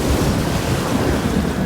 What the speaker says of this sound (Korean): 매우 강하고 무서운 바람이 불어 파도가 배 안으로 덮쳐 들어왔고 물이 배 안에 차게 되었어요.